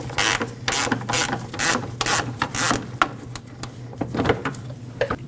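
A ratchet clicks in repeated bursts while backing out 10mm-headed screws that hold the fan shroud to the radiator of a 2.5L four-cylinder Nissan Frontier; close, crisp pawl clicking with brief pauses and no talk.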